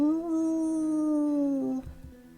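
A dog in the Tsukihime visual novel lets out a single long, clear howl that holds a steady pitch and slowly falls, then breaks off into a few short low sounds.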